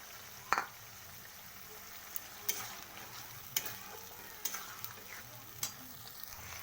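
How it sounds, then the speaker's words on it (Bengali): Ginger-garlic paste fries in a pan with onions for a fish rezala, giving a faint, even sizzle broken by a few sharp clicks of a spoon against the pan. "আদা রসুনের পেস্টটা আমি দিয়ে দেব"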